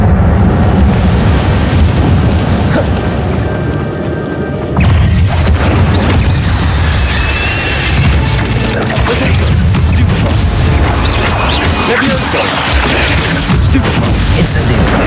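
Repeated Incendio fire spell blasts in the Hogwarts Legacy video game, loud booming bursts and crashing impacts layered over dense combat noise, with a voice speaking intermittently.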